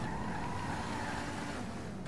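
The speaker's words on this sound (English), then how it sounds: "Screeching start." Continuous loud whine and screech of car tires spinning at a race start between an Eclipse and a Mustang, a steady, slightly rising squeal with engine roar underneath, held for about two seconds.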